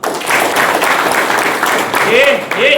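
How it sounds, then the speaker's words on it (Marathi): A crowd at a political party gathering claps steadily and densely throughout, with a voice speaking over the applause toward the end. "विवेकानंद जोरदार टाळ्या वाजवा"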